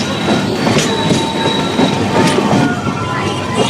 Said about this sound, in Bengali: আমাদের দুরন্ত এক্সপ্রেস পেরোচ্ছে ব্যস্ততম দমদম জাংশন।